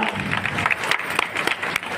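Applause from a crowd at a teacher training course's final-day ceremony, a brisk mix of many claps, fairly close and lively, lasting a couple of seconds.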